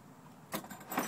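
A few metal wrenches clink and jangle briefly as they are handled, two quiet metallic rattles close by in a short moment.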